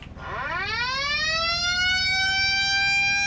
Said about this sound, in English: That just sounds like the generic Italian police siren.